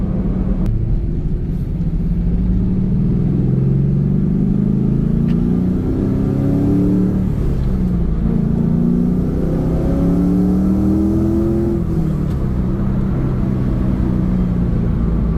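A 1999 Pontiac Firebird Formula's 6.0L V8 engine revs up and down repeatedly with a deep rumbling growl, rising and falling in pitch, heard close and loud.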